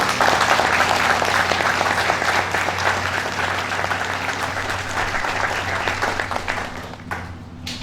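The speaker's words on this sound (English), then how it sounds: "give him and give yourselves a big round of applause for being here in fellowship" A memorial service crowd gives a sustained round of applause, loud, dense clapping that tapers off near the end.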